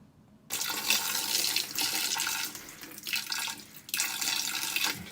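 Bleach from a dollar store is poured into the basin of a GE washing machine as a steady, close rush of liquid that runs for several seconds with brief dips and no talking.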